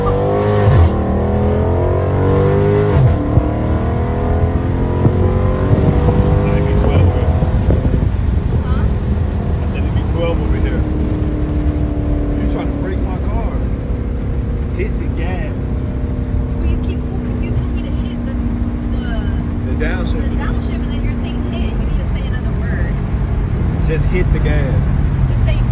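A 500-horsepower Dodge Scat Pack accelerates hard from inside the cabin. The loud engine roar climbs in pitch through the gear changes and then holds a steady drone, with people talking over it.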